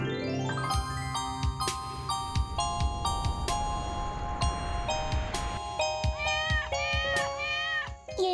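A kitten meows in the Chhota Bheem cartoon: thin, rising and falling high cries near the end, after sustained musical tones and light tinkling percussion.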